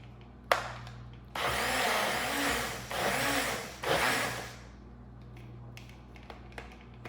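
A blender runs through ingredients in a kitchen, with loud whirring bursts in several pulses, short gaps between them and a few clicks around the start and finish.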